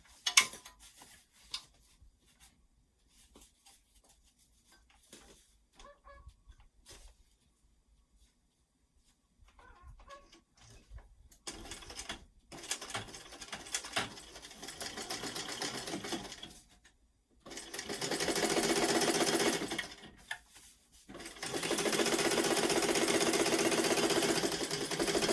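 A sewing machine stitches a line down the center of a DIY weekender travel bag, running in several bursts of rapid mechanical whirring separated by pauses and quiet handling sounds, close and clear.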